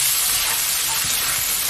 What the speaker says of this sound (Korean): 좀 까맣은 게 이제 약간 노릇한 빛을 내면서 골고루 볶아줍니다